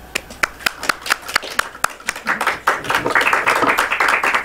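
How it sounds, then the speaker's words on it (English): A small group claps at a Toastmasters club meeting, starting with a few scattered sharp claps that quickly build into steady, brisk applause nearby. "We can clap for her."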